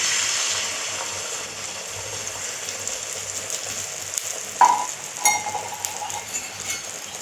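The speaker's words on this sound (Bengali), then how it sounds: "তেল গরম হয়ে গেছে, এবার ডিম দিয়ে দেবো, ডিম গোলা" Beaten egg drops into hot oil in a home kitchen pan, giving a steady close sizzle with a few sharper crackles and stirring clicks toward the end, no talking.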